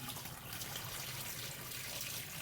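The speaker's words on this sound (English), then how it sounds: "let the water drain out." Faint, steady trickling and splashing of rinse water draining out of a jar of broccoli sprouts, soft and close with no voices.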